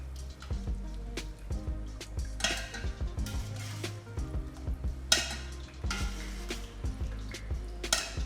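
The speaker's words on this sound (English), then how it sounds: "Meanwhile, I saute the ingredients in the pan for about 7 minutes." Green beans and meat ingredients sauteing in a home kitchen pan, with soft sizzling under repeated stirring clinks and scrapes of a utensil against the pan, close and moderately loud.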